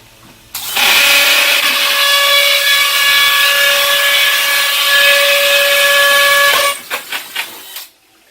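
Power driver setting a Tapcon screw into concrete during replacement window installation, a loud sustained high whine for about six seconds that ends with a few stuttering bursts as the screw seats.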